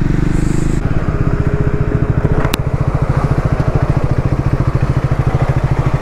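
A Triumph Speed 400 motorcycle engine putters at idle close by, a steady rapid thumping rhythm that continues throughout, with a brief higher tone early on.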